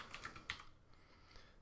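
Quick, faint keystrokes on a computer keyboard as a search is typed, a few light clicks in the first half second over a quiet room hiss.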